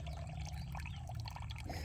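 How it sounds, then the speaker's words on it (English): Strained rice water poured into a larger container already holding about ten liters of water, a steady full-bodied splashing gush that stays constant and close throughout, with no voices. "Now take the strained rice water and pour it into a larger container that already has 10 liters of water in it."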